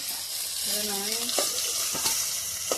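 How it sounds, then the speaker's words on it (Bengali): Steady hiss of fish frying in hot oil, close and continuous, with a few brief scraping and clinking sounds and a short voiced tone partway through. "তেলটা ভালো করে গরম করে নিচ্ছি আর এই মাছগুলো একটু ভাঙে না।"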